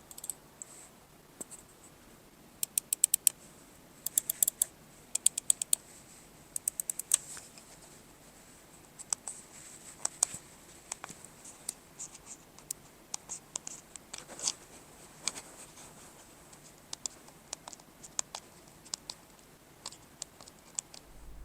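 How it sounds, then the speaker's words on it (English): Buttons on an E-YOOSO X33 computer mouse clicked over and over, sharp quiet clicks in irregular bursts and single presses, close and faint against a low hiss, with no talk. "here is the test of the sound of the mouse buttons here"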